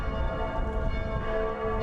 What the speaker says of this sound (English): The bells of all Catholic churches across Germany rang out during his funeral.